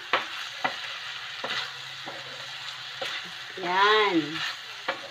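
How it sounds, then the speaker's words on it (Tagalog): Vegetables with a little meat frying in a pan for breakfast, a continuous sizzle broken by sharp scrapes of stirring, with a brief voice near the end. "Haluin natin."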